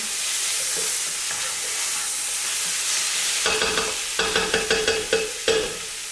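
A vegan Just Egg omelette cooks in a pan with a steady close sizzle, followed near the end by a series of rhythmic scraping stirs or utensil taps against the pan.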